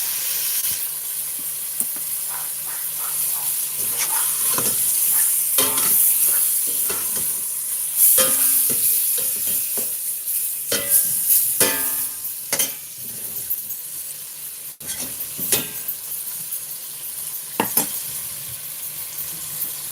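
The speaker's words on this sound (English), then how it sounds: "we're going to do this a couple times with the browning process. That way we get a good dark color on our gravy." Cubed beef skirt steak browning in a pan, giving a continuous sizzle and hiss broken by frequent scraping and stirring clicks and brief bursts of spitting, moderately loud and close.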